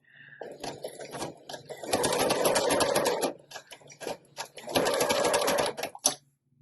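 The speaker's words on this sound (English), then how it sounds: "I'm trying to just sew on one page" Up close, a sewing machine stitches lace onto a single junk journal page in two sustained rapid runs, separated and surrounded by short stop-start bursts and paper handling.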